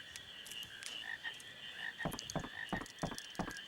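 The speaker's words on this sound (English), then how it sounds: "the frogs that you have to farm spawn very slowly" Frogs in Final Fantasy IX croak in a quick, regular series of short calls that start partway through. They sound fairly faint over a steady tonal game background, with no talking.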